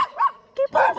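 Nearby dogs on a street during budget backpacking travel let out a quick run of loud barks and yips, one sharp bark followed by a denser burst.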